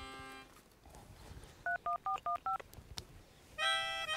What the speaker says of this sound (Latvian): Piezvanīšu.